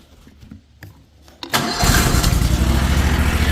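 Small gasoline engine catching with a little choke: a few quiet clicks and pulls, then it fires up abruptly and settles into a loud, steady close-range running drone.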